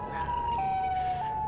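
Siren Head's siren wail in the video game Melon Playground, a loud, steady electronic tone that steps down in pitch and then rises slightly, heard alone.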